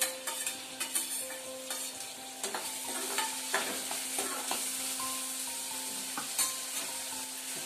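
Onions frying in a pan with tomatoes added, a steady close sizzle broken by clattering knocks and scrapes of a spoon against the pan, with a faint tonal hum underneath.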